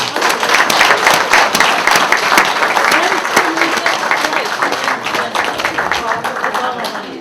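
An audience applauds loudly at a town hall meeting, dense continuous clapping filling the room with a voice audible under it at moments.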